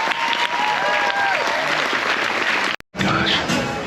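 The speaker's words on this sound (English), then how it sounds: "Can we get a round of applause for all our production crew?" A theatre audience aboard a cruise ship applauds the production crew after a show, loud continuous clapping with crowd noise that breaks off briefly near the end and then resumes.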